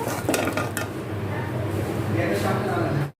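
Cooked pasta with chili is scooped from a pan onto a dish in a home kitchen, with continuous scraping, clinking utensil-on-metal sounds and a low background hum, ending abruptly.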